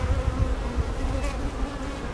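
Honeybees buzzing steadily at an open hive during a colony inspection, a dense, close, continuous drone with no talk.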